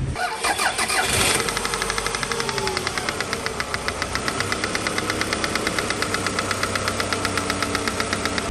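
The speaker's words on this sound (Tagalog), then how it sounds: "ite-test drive namin, maingay yung makina" A noisy Toyota RAV4 engine runs steadily after a transmission overhaul, opening with a loud start-up surge and settling into a close, even idle with a rapid rhythmic knocking tick throughout.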